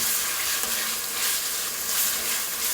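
A full medium-sized onion sautéing in a pan, a loud, dense, continuous sizzle up close with slight swells as it is stirred, and no voices.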